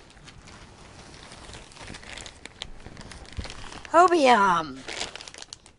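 A cut-open plastic yarn order bag crinkles and rustles as it is handled close to the microphone, with a person speaking over it.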